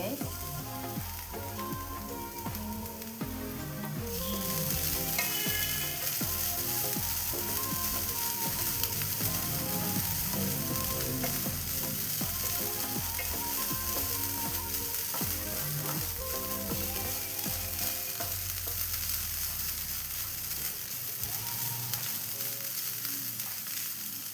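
Onions, coconut and curry ingredients for Kannur-style ulli theeyal being stirred and roasted in a pan over low heat, giving a continuous close sizzle with rattling, scraping spatula strokes throughout and no talking.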